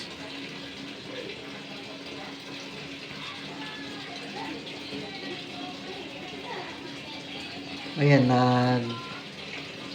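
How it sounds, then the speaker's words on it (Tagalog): A Panasonic washing machine fills with water, a steady rushing flow under faint background talk, with a short tonal beep near the end. The machine keeps filling and will not start washing. "nagkakarga pa siya ng tubig."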